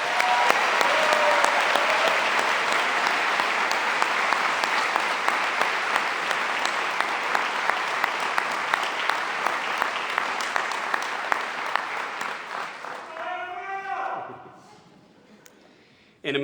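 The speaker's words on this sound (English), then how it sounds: "How about a final round of applause for all of our graduates?" A commencement crowd gives graduates a long, full round of applause, dense and even for about fourteen seconds before fading quickly to a few scattered claps and near silence.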